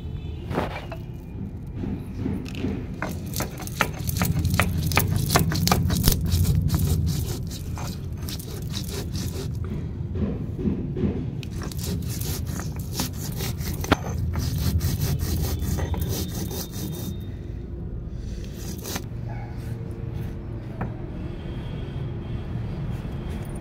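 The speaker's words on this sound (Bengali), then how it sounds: "জিরে বেটে নিচ্ছি বন্ধুরা" Cumin is ground into a paste by hand with steady, rhythmic rubbing and scraping strokes, close and continuous. A heavier, louder grinding passage comes early on, and no one speaks.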